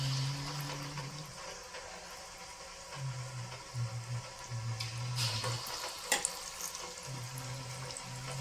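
Malpua batter sizzles steadily in hot oil, a continuous bright frying hiss with a few soft pops and spatters, close and fairly loud, with no talking.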